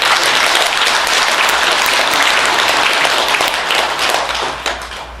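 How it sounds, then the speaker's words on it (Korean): Audience applause fills a Buddhist dharma hall during a monk's talk, dense steady clapping from many hands, loud and sustained, easing slightly near the end. "박수 한번 쳐드릴게요"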